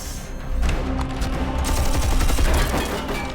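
Marines in StarCraft II: Wings of Liberty trade dense rapid gunfire, loud and continuous bursts of machine-gun rattle overlapping with thumps throughout the battle.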